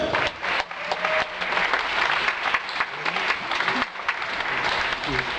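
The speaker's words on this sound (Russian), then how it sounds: "аплодисменты храброй даме" A comedy-contest crowd in Kramatorsk claps as a woman comes up onto the stage, sustained loud applause with a few brief dips and some voices mixed in.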